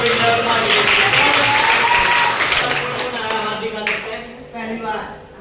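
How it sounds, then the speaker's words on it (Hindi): An audience at a distributor meeting in a hall breaks into sustained applause that holds steady, then thins and fades toward the end, with voices and sung or called-out tones over the clapping. "लेकिन जबरदस्त तालियां मारेंगे"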